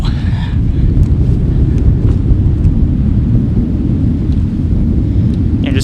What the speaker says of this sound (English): it got real freaking windy